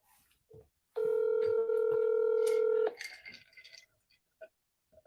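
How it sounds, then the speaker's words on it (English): A telephone keypad beeps once as dialing begins, then a sustained loud dial tone holds for about two seconds before cutting off into quieter clicks and faint background noise, placing a call. "I'm going to call her and see what she said."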